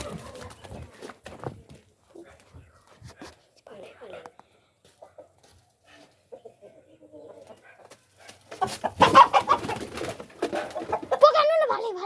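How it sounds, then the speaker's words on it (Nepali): A rooster clucks and squawks while being caught, faint scattered calls growing into louder flurries of alarmed cackling near the end, with people talking throughout. "गाइस अब चाहिँ भाले समात्न आँटेको"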